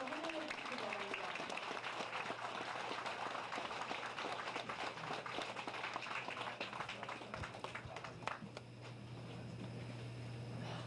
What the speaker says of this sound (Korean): 우리 팀 박수로 환영해 주시기 바랍니다